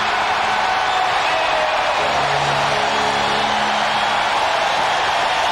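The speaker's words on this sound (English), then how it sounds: "This crowd is deafening" Packed basketball arena crowd at a 1993 NBA playoff game between the Celtics and Hornets roars nonstop, a loud, dense, unbroken wall of cheering and screaming that never lets up.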